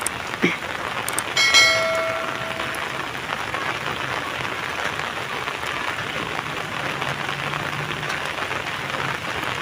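Rain falls steadily during cast-net fishing in a flooded area with water running down from the hills, a continuous soft hiss of drops, with a few brief bright ringing tones early on.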